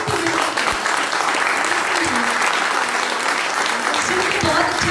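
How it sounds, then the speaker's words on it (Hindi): Men in a seminar audience clapping for the women present, a dense, steady wash of applause close by that fills the whole stretch with a few voices faintly mixed in. "जितने भी जेंटलमैन है यहाँ पर वो फीमेल के लिए सिर्फ ताली बजाएंगे"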